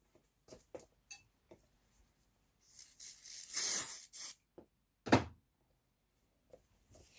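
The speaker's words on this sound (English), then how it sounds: "I'm going to give it a little shot of spray to the back" A brief hissing burst from an aerosol can sprayed onto the back of fabric, preceded by light handling clicks and followed by a soft thud.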